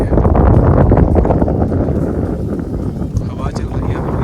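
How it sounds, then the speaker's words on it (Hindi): Strong wind blowing at Pangong Lake in Ladakh, a loud gusty rumble buffeting the microphone throughout, steady roar with slight easing toward the end. "हवा चल रही है, मेरे बाल उड़ रहे हैं।"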